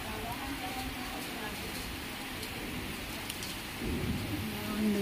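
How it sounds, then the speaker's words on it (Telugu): Heavy evening rain pours down in a steady dense hiss, a constant wash of falling water with a thicker rush near the end, while a person talks over it. "విపరీతంగా వాటర్ చూడండి ఎలాగ కిందకు వచ్చేస్తున్నాయో"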